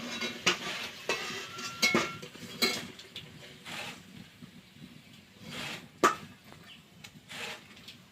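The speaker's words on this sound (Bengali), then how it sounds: "আলুটা আমার লাল লাল করে ভাজা হয়ে গেছে, এবার তুলে নেব।" Potatoes fried until reddish-brown are lifted out of a pan, giving intermittent metallic clinks and scrapes, close and moderately quiet, with no talk.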